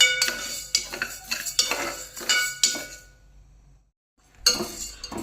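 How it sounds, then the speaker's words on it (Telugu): Toor dal being dry-roasted and stirred in a metal pan for mango dal, with repeated scraping clinks of a spoon against the pan, then a brief pause before the stirring resumes; no talking. "మామిడికాయ పప్పుకి ఫస్ట్ 1 కప్పు కందిపప్పు వేయించుకుందామండి."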